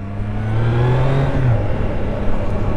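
A Triumph Trident motorcycle engine revs and accelerates loudly up close, its pitch climbing and holding with a strong, steady drone.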